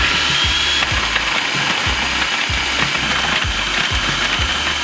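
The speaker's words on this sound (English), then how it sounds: "I'm supposed to shred the beets, not chop them in chops. But that's okay. We got a food processor." A food processor shreds beets for vegetable soup, giving a loud, steady mechanical whir with a repeating rhythmic clatter as the chunks are grated, continuous throughout with no talking.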